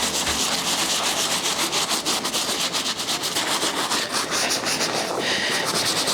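Bristle brush on a power drill scrubbing the uppers of Jordan sneakers, a close, steady whirring rasp with fast pulsing texture that runs continuously without pause and with no talking.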